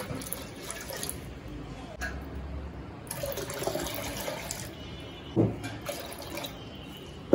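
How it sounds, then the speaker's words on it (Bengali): Water poured into a bowl of sour yogurt to make a matha drink, with soft splashing and trickling close by in uneven bursts and a few clinks, fairly quiet. "দিব হচ্ছে পরিমাণ মতো পানি"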